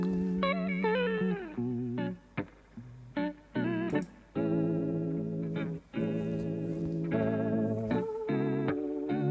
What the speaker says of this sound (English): whatever sound you can alter and give it the wow and flutter